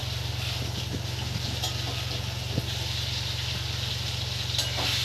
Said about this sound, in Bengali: এদিকে মাছের ঝোলের আলুটা ভাজা হয়ে যাচ্ছে আমার।